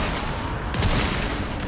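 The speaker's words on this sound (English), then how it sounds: "I shoot 5 bullets in her chest, but she doesn't fall over." Gunfire in the video game Resident Evil 4 Remake, a brief burst of loud shots packed closely together under a dense, continuous game soundscape.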